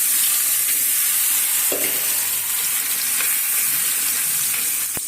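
Fish frying in hot oil in a pan, a loud, close, continuous sizzle and crackle with a few faint clinks, running steadily without any speech.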